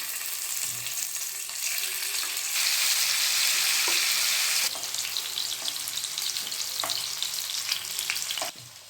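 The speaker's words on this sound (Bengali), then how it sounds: "আমি এই যে সাদা তেল দিয়েছি ফ্রাই প্যানে, আর এই যে এইভাবে কেটে নিয়েছি পনিরগুলোকে। সবার প্রথমে আমি পনিরগুলো ভেজে নেব।" Paneer pieces frying in white cooking oil in a frying pan, a steady close sizzle with hissing bursts and occasional stirring clinks, loud and continuous without talk.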